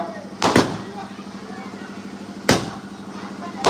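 Two loud firecracker bangs burst at a Ganesh festival laddu auction, one just before the first second and another about two seconds later, over a steady crowd murmur and a constant low hum.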